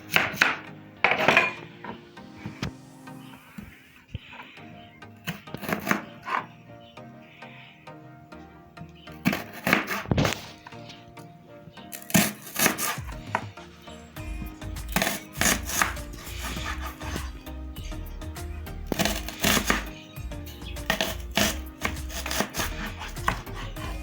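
Vegetables chopped with a knife on a board for a plantain dish, bursts of sharp rhythmic taps separated by pauses and quiet handling, close and clear.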